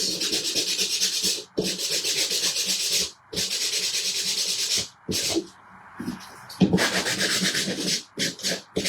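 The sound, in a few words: sanding block rubbing paint off edge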